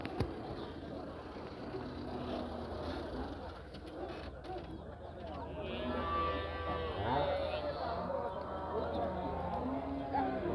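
A native bull lets out a drawn-out, low moo partway through, heard at moderate distance among outdoor farmyard background noise and faint human voices.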